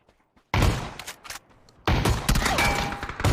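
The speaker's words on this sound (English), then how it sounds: "What the f are you using a shotgun from that far?" Shotgun fire in the PUBG Mobile battle royale game: two loud, close bursts of heavy booming blasts separated by a brief quieter gap, with no talking.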